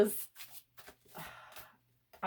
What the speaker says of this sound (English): Normally I pick a new deck every week to pick my daily cards for the week, and I just have to shuffle it right now